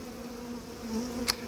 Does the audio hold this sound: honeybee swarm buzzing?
yes